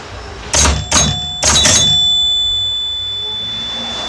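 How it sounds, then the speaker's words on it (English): A faulty chime unit on a Gottlieb Surfer pinball machine rings four short metallic tones in two pairs, the strikes dull and thin rather than full, each leaving a faint fading ring afterward. "hear those chimes? They're barely working."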